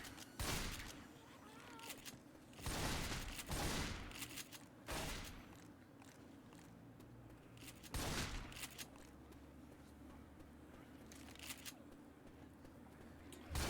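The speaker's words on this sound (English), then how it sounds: "Let's watch our lead shotgun at work. Hooli. He's going to lead the way with the chrome." Chrome shotgun blasts in Left 4 Dead 2, a handful of loud booming shots spaced irregularly over several seconds, with reload clatter and game ambience in between.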